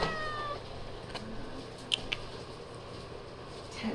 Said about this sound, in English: Are you somebody's cat here?